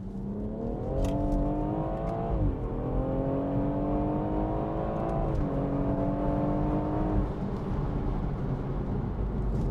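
A BMW M140i engine revs hard in second gear from 30 mph and climbs steadily in pitch, easing briefly twice before pulling up again, loud and close with road noise beneath.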